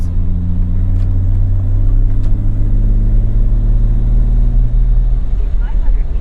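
A BMW E34 M5 heard from inside the cabin while driving, its engine and exhaust giving a loud, steady low rumble that holds throughout with little change in pitch.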